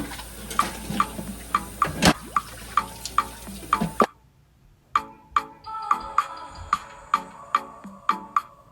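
Water from a kitchen sink draining after dishwashing, heard as a steady series of close, sharp drips and small splashes at a quick, regular rhythm, with a fuller watery rush in the first half before it thins out.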